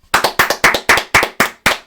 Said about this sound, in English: Round of applause for Jarred Kelenic.